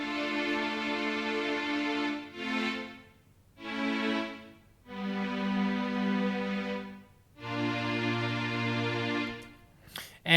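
A bright synth part with boosted highs from a stock-plugin Logic Pro remake of a song intro plays sustained chords in separate swells with short gaps, close and clean, no voices.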